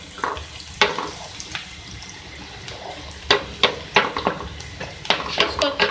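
Whole cumin seeds and ajwain stir-frying in a pan for an arvi vegetable dish, a soft sizzle broken by scattered clinks and scrapes of a spoon against the pan, with louder bursts of stirring toward the end.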